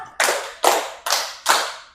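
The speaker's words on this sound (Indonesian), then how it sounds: "Tepuk 4." Four crisp, evenly spaced group claps in unison from a classroom of students following a teacher's count in an acids-and-bases lesson, loud and close, with no talking over them.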